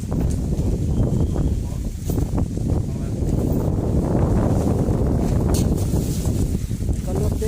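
Strong gusty wind roars against the microphone outdoors at a village elephant camp in Thailand, a dense, steady low rumble that fills the whole stretch without a break.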